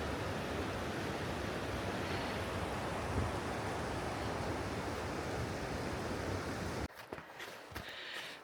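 Steady, loud rush of the river at Savage River State Park heard up close on a hiking trail, a continuous broadband roar that drops off sharply near the end, with some handling noise.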